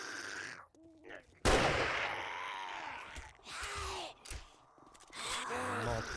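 Gunfire in the zombie survival game 7 Days to Die: one sharp, loud shot followed by a few more bursts, mixed with groaning and gasping sounds.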